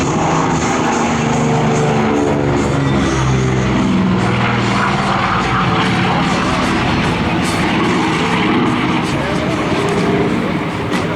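A de Havilland DHC-4 Caribou flies a display at the Avalon Airshow, and its two Pratt & Whitney R2000 radial engines give a loud, constant, throbbing drone for the whole clip. A voice talks over the engine noise.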